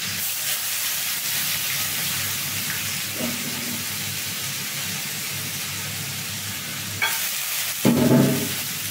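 Lentils frying and being stirred in a pan with dried chilies and leaves, a steady close sizzle with scraping stir strokes and a brief louder burst near the end.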